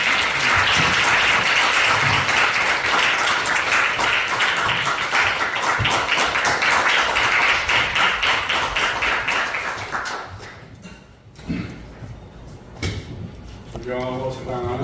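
An indoor audience at a June Democratic Struggle commemoration forum gives a speaker a warm welcome: dense, loud clapping for about ten seconds, then it tapers off and a voice begins speaking.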